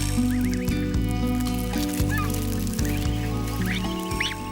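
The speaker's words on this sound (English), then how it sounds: "Into the sunlight of a brief Arctic summer in Russia struggles a snow goose chick." Soft, high peeping calls from a snow goose chick in the Russian Arctic rise in short chirps over a steady low hum, repeating irregularly and fairly close.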